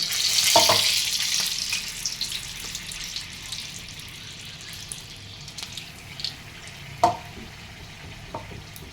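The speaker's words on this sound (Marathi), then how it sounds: "तेल मस्तपैकी बऱ्यापैकी तापलेलं आहे हे आपण टाकतो मिरची अशा पटापट टाकायच्या" Green chillies for mirchi bhaji drop into hot oil with a bright sizzle that swells at first and then settles into a steady fry, with a few spoon clinks and splashes along the way.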